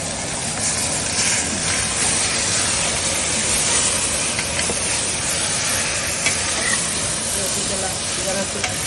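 Mutton coated with flour roasting in a pan with butter and masala, giving a steady, dense sizzle and hiss close by, with occasional faint scraping as it is stirred.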